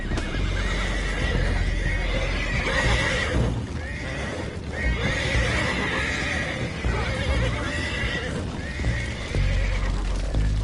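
Horses neighing and whinnying repeatedly in Red Dead Redemption 2, loud and close, with hooves clip-clopping beneath and some game voices in the mix.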